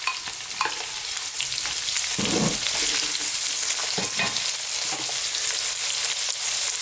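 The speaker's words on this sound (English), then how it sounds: "We're now going to go in with some chopped onions." Chopped onions sizzle and fry in a hot pan with a steady, loud hiss throughout, broken by a few scrapes and stirs and no voices.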